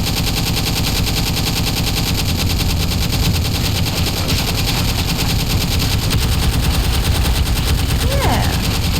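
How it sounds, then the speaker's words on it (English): Rapid, continuous machine-gun fire from the destruction game Teardown rattles loudly and steadily throughout with no pause. "Now I shall absolutely gun this thing down."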